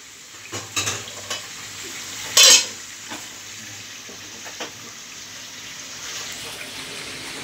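Meat sizzles in a pan while a utensil scrapes and stirs it, with steady frying hiss, scattered clinks and one loud metallic clatter, close by in a home kitchen.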